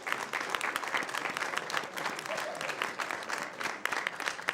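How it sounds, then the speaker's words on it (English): A steady wash of audience applause after a school academic presentation, many hands clapping evenly at moderate loudness throughout, with no voices standing out. "Let's give them a round of applause."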